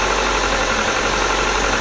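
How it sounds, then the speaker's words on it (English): A steady, loud mechanical hum and rattle from a car engine idling after an injector swap and new engine mounts, constant throughout with no voices. "The idling is much better, I think."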